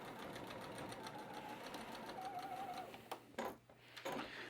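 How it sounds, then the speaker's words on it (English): A sewing machine stitches down a patchwork seam, a faint steady whir for a few seconds, followed by several scattered clicks and knocks as it stops. "I'm going to stitch down"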